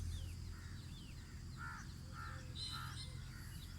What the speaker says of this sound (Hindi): ये कोयल की आवाज़,